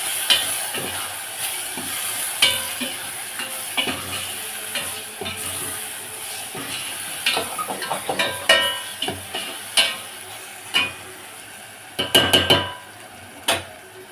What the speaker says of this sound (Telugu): కారం వేసుకుందాం ఒక్కసారి మిక్స్ చేసుకుందాం